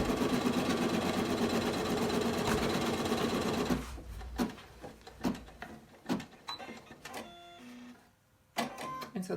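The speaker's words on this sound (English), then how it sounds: "we're going to press the green button, and it's going to stitch the chunk of hair that's pink" A computerized embroidery sewing machine stitches the pink hair section of an appliqué design on a T-shirt. It hums in a steady, fast whir for about four seconds, then slows into separate ticking stitches and short bursts with brief pauses.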